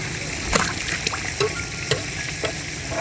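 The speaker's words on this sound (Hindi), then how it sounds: "अब ये इसमें घी डालेंगे" Ghee poured into carrot halwa cooking in a pot, a steady sizzling fry with soft stirring scrapes and small splatters, close and continuous.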